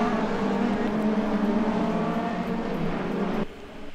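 BMW and Mercedes race cars in a sim racing video game roar loudly with steady engine drone, one car holding a high whine before the sound drops off near the end.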